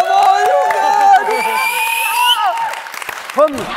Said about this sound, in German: können wir ganz kurz Applaus haben?